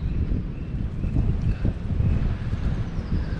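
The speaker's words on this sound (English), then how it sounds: "Quite windy." Wind blows steadily while camping in the woods, a continuous low rumbling rush with gusty buffeting against the microphone, close and fairly loud with no other sounds.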